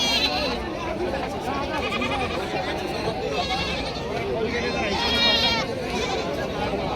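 Goats bleat repeatedly at the Khandoba goat market in Parbhani, with several overlapping calls from near and mid distance over a crowd's chatter and nearby talk.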